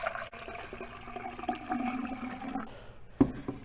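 Water is poured into a container during a classroom density demonstration, a soft trickle and splash lasting a few seconds, faint and close, ending with a short knock.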